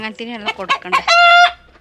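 A rooster held in someone's hands gives a few loud, close clucks and then a short, strained crow, all within about two seconds.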